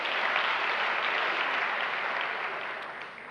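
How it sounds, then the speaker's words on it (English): A lecture-hall audience gives a full, dense round of applause, loud and continuous throughout before easing slightly at the close. "Let's give them a round of applause, ladies and gentlemen."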